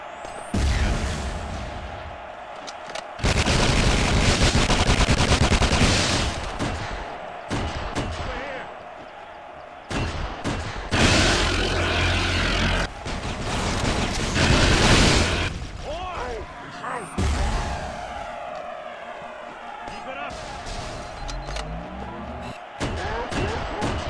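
Weapon fire in the video game Halo SPV3, dense bursts of booming shots and impacts in dense stretches with short lulls, mixed with game effects and someone talking over the action.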